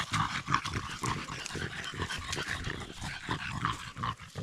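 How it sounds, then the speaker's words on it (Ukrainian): Dogs pant and snuffle close by in a forest while mushroom picking, a busy rustling, breathy sound with faint yips and whimpers mixed in, continuous throughout. "Що, набігали собаки, так?"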